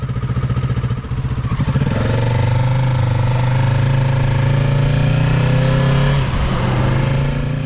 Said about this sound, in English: below 5000 RPM it sounds pretty ordinary. Just a typical parallel twin sound. You get that familiar Kawasaki 650 whine.